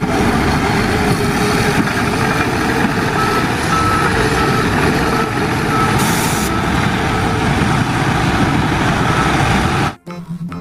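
Dump truck backing up, its reversing alarm beeping in a steady repeated rhythm over a constant engine rumble, fairly loud and close, cutting off abruptly near the end.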